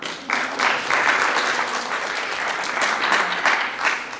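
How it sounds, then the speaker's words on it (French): An audience at a conference wrap-up breaks into applause, a dense, steady clapping that starts after a brief moment and carries on loudly throughout with no speech. "vous pouvez vous applaudir"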